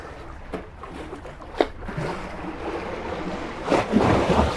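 Heavy waves slosh and crash against a moving boat, with gusty wind rumbling and a few louder splashes breaking through.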